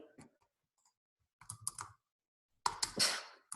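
Short bursts of keyboard typing, quiet clicks clustered in a few quick runs separated by silence, close to the listener.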